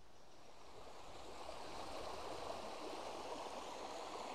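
Thornthwaite Beck, a small stream beside a packhorse bridge, flows with a steady broad rushing and babbling wash, constant and fairly close, with no voices.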